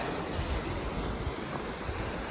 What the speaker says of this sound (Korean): 파도 소리 들리나?